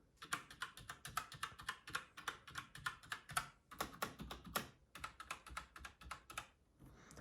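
Close-up typing on a keyboard with Razer keycaps: quick, fairly even clacking keystrokes in a steady rhythm, with a brief pause near the end.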